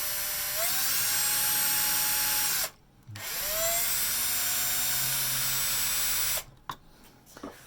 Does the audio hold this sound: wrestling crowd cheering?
no